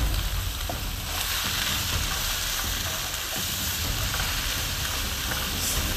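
Chopped mushrooms frying in a pan with browned onions, a steady, dense sizzle that continues throughout with no talking.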